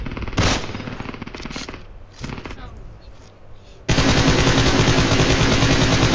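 An M4 rifle in the PUBG battle royale game on the Erangel map fires in automatic bursts, first in broken volleys and then as a loud, sustained stream of rapid shots.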